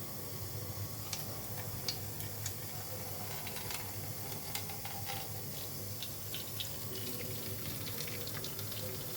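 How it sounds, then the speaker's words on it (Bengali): Coconut milk is squeezed by hand through a net cloth, giving a faint, steady trickle of liquid with scattered small ticks, and no voices. "এভাবে আমি চেপে চেপে দুধগুলো বের করে দিচ্ছি।"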